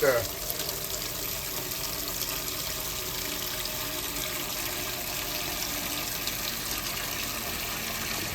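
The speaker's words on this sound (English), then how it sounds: "Gonna put enough water in here" Water pours steadily into a crockpot of old-school red beans. A continuous, even rush of filling water holds at one level for the whole stretch, close and fairly loud.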